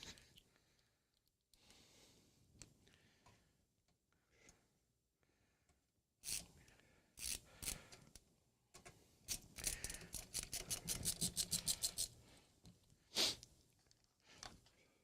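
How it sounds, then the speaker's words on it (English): Two small flange screws being driven in by hand, a run of quick ratcheting clicks and brief mechanical rattles, close and fairly loud, with quieter handling noises before them. "So I'm just going to put the 2 screws right there."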